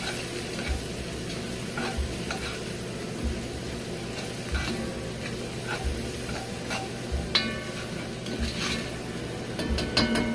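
Ingredients for beef bourguignon being stirred in a pan, a steady sizzle with soft scraping and occasional spoon taps on the pot, continuous and fairly close.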